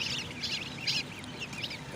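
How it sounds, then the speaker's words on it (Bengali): One-week-old goose goslings call from nearby, a quick series of thin high peeping bursts repeating every half second or so over a faint background hum. "রাজহাঁসের বাচ্চা, 1 সপ্তাহ বয়সী বাচ্চা।"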